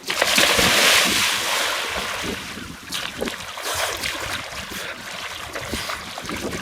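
A bucket of ice water is dumped over a person outdoors, a loud rushing splash and pour that peaks early and then tails off into dripping, spattering water and faint wind noise.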